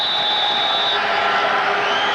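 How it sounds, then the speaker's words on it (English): A large, happy crowd at a Canadian football game at McMahon Stadium, Calgary, a continuous distant roar of cheering and whooping that holds steady throughout. "A very happy crowd."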